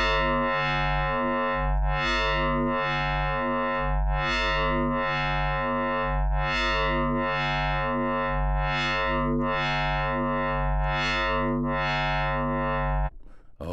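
Grainy, distorted synthesizer tone from Prisma on a BLUE-II synth, loud and continuous with a regular pulsing swell roughly every second, then cut off abruptly at the end.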